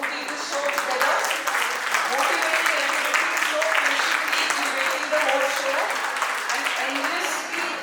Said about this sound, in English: A big round of applause for Vajanti for